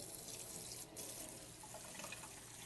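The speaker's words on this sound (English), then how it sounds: "So I turn on the hot water" Hot water pours from a kitchen sink faucet onto ground beef crumbles in a colander, a continuous rushing splash heard quietly and without speech.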